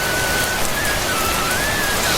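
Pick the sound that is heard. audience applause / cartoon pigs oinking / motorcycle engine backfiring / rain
rain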